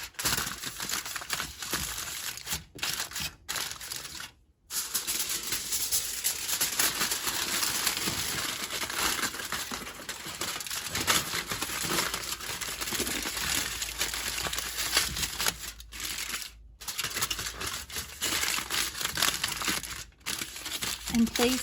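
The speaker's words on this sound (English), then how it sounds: "the next step is covering the edges with aluminum foil" Aluminum foil crinkling close up as it is wrapped around the edges of a mixed berry pie crust, dense rustling crackles in bursts with a few brief silent gaps.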